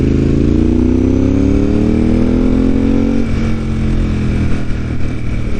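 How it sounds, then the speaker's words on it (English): A Ducati 748R motorcycle on a road in Japan, its engine loud and close, pitch climbing steadily through a long pull of acceleration before shifting into a rougher, steadier roar. "Riding a 748R really kind of lets me, at least, lose the sense of speed."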